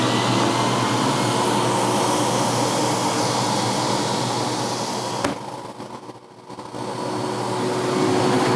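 A shop vac powers a DIY vacuum table for CNC work with a steady, loud whooshing roar. Partway through, the tone briefly drops and thins before swelling back to full strength.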